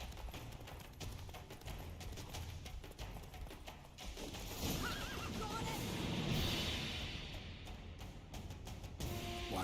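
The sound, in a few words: horse Roach whinnying in The Witcher video game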